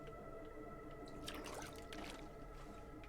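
Water being picked up in The Long Dark survival game, soft faint drips and a brief trickling splash over a quiet hum of background tones.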